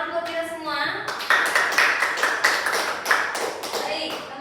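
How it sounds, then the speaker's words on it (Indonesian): Classroom applause during a math microteaching lesson. A voice is heard briefly, then many hands clap in a dense, rapid burst that carries on steadily to the end. "Tepuk tangan buat kita semua."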